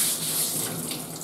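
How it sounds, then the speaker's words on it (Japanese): A black sea bream (chinu) is rinsed under a running kitchen tap, giving a steady, close hiss and splash of flowing water throughout this brief moment, with no talking. "先に切る前はね、必ずこう洗っておいた方が"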